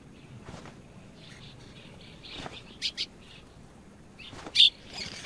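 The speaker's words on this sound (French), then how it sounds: "Les parents nourrissent leurs oisillons qui piaillent pour plus de nourriture." Cliff swallow nestlings in a colony on a canyon wall in Yellowstone beg for food with faint, thin high chirps and a few sharper peeps, scattered over quiet outdoor background.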